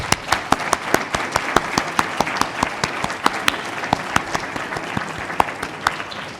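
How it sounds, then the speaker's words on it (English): A small audience at a telecom industry breakout session claps for departing panelists, with a handful of sharp, distinct hand claps repeating at a quick, fairly regular pace over a light bed of scattered clapping. "Big round of applause for our panelists."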